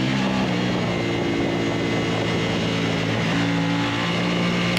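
A Formula 3 race car engine on track, a steady loud drone with a sustained pitch, sounding close as if heard onboard, with no talking.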